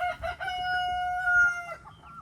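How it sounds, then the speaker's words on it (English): A rooster crows loudly and close, one long sustained call, with hens clucking around it in a farmyard where goats roam. "Carly, leave the chickens alone."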